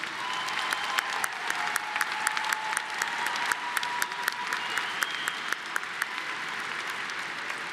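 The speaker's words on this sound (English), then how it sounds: "Would you all join me in applauding the honor students?" An audience at a December university commencement ceremony applauds honor students, sustained even clapping from a large crowd heard at a moderate distance in a big hall, without speech over it.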